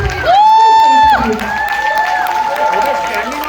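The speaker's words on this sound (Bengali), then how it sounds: "জোরে একটা হাততালি জয়িতাদির জন্য" Audience at a Rabindra Jayanti cultural program claps for a dance performer: steady, dense applause with crowd noise, opening with a loud sustained tonal shout or whistle that bends down and fades.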